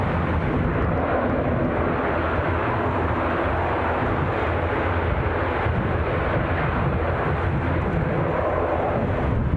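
A Ryanair airliner departing Edinburgh Airport for Riga on a windy day, giving a steady, loud broadband roar of jet engines that holds throughout without fading or talk.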